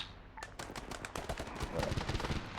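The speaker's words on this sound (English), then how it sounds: "Who are they shooting at?" Rapid bursts of gunfire during a snowy night operation in the video game Arma 3, sharp repeated cracks in quick irregular volleys, fairly loud and close, with no talk over them.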